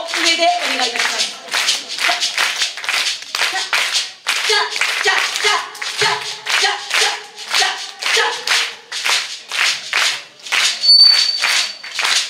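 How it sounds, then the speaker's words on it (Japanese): Crowd clapping in time along with a carnival band performance, a regular, rhythmic beat of many hands, close and fairly loud, with voices and a brief whistle-like tone mixed in. "手拍子は耳よりも上でお願いいたします。"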